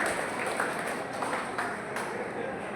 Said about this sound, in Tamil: நீங்கள் அவருக்கு ஒரு கரவொலி எழுப்பி அவர்களை பாராட்டும் விதமாக